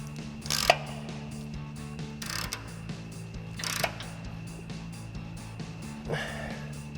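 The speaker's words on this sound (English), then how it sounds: "using our 24 mil socket, but this time we'll use a ratchet as opposed to a breaker bar" A ratchet with a 24 mm socket tightens the lower control arm nuts on a 2024 4WD Toyota Tacoma during a front leveling kit install, giving several bursts of rapid clicking separated by pauses over a steady background hum.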